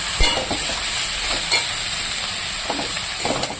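Cut vegetables fry in a pan with salt and chili as they are mixed, a loud steady sizzle with occasional scrapes of the spoon, close up and with no talking.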